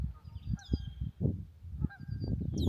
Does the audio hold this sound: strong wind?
no